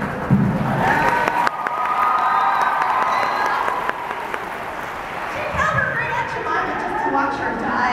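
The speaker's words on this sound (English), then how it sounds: "We are all in favor of pity claps." A teen book festival panel audience claps and cheers in a hall, steady crowd applause with voices talking over it throughout.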